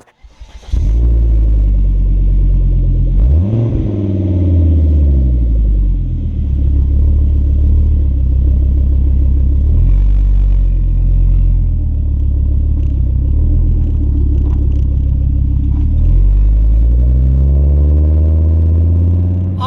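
A 2002 Volvo V70 2.4T car driving on the road, loud steady engine rumble heard from inside, with repeated rises and falls in pitch as it accelerates and shifts gears, no voices.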